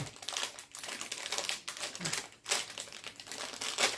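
The plastic wrapper of a Hello Kitty blind box crinkles and crackles as it is torn open, close and continuous with uneven bursts of rustling.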